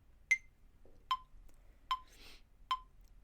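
A metronome beeps four evenly spaced quarter notes at a steady moderate tempo. The first beep is higher in pitch as an accent. The beeps are crisp and fairly quiet, with no talk over them.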